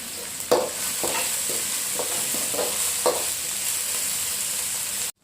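A tomato and cumin tempering sizzles steadily in a pan for bitter gourd curry, with several scraping stirs of a spoon cutting through the hiss, close and loud, no voices.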